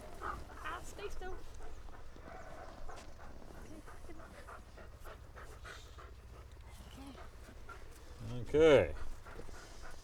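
Sled huskies pant quickly and whimper through ten seconds, breathing close by with a louder whine near the end, while a person speaks briefly over them.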